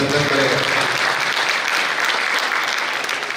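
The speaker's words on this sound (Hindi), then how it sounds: "एक बार गुरुदेव के सम्मान में पूरा सदन जोरदार तालियां बजाकर उनका अभिनंदन करेगा।" Hall applause honours a guru at a padyatra event in Ujjain. A full room claps hard and continuously at close range, fading slightly toward the end.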